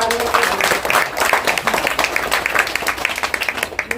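A group claps together at a Sri Rama Navami temple event in ECIL DAE Colony, loud close irregular applause running throughout, thinning slightly toward the end.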